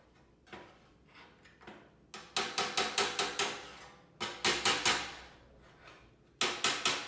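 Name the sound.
hammer and dolly on sheet metal of a Skilsaw box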